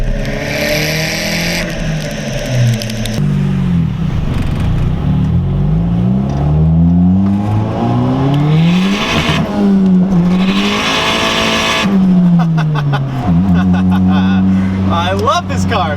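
A Honda Civic EG with a leaking exhaust revs hard, its engine note climbing and falling in repeated sweeping pulls with crackling pops as the exhaust shoots flames, loud and close, while people talk excitedly over it.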